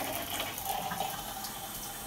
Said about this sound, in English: Shower head's only running.